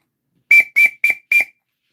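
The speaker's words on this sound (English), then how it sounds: "I'll give you a little toot though here on the boatswain's whistle" Four short, shrill toots from a boatswain's whistle, played at a small demonstration, each lasting about a quarter second in an even, closely spaced run with no talking.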